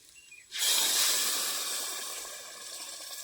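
Mutton pieces hit a hot pan outdoors in a field, setting off a sudden loud sizzle that flares up after a quiet start and then slowly eases while staying strong to the end.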